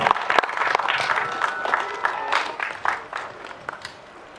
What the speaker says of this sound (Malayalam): ഒരു ഗംഭീര കൈയടി ഫോർ അഭിരാമി